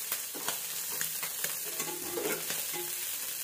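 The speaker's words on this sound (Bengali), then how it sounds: "তো আমার এখানে দেখো পুঁটি মাছ ভাজা হয়ে গেল, অনেকগুলো পেঁয়াজ দিয়েছি" Small puti fish frying with plenty of sliced onions in a pan, giving a close, continuous sizzle broken by occasional stirring scrapes and taps; no one speaks.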